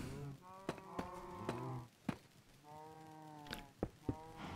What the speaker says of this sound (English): Those cows are a little loud